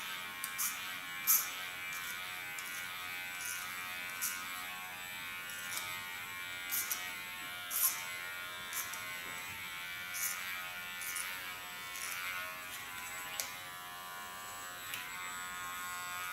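An electric hair clipper cuts short hair with a faint, steady high buzz and small rising swells as it moves along the head; no one speaks.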